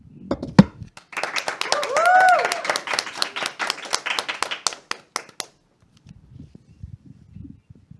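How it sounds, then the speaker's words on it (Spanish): An audience applauds to welcome the singer Gelacio Cruz on a Catholic faith talk program, a burst of fairly close rhythmic clapping lasting several seconds with a voice over it, then fading to quiet with faint speech. "Vamos a recibir a Gelacio Cruz con un fuerte aplauso"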